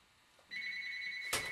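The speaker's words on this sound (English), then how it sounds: "a phone ringing." A telephone rings in a kitchen where water heats in a small samovar for tea: a steady electronic two-tone ring starts partway in and carries on, fairly clear, with a brief clatter near the end.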